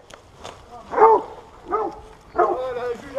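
Hunting dogs bark and yelp in three loud bursts during a boar hunting pack competition, with a voice calling nearby between the barks.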